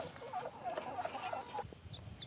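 A buff Sussex hen clucks softly on her nest in a coop, a run of close, low murmuring clucks with a brief pause near the end and no talking.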